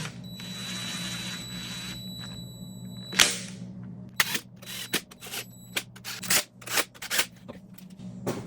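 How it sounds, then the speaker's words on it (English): Screw gun gently driving head bolts into a Triumph TR6 cylinder head during an engine rebuild, a hum first, then a series of sharp, close ratcheting bursts in quick irregular succession. "Okay, so first we're gonna drive them gently with a screw gun."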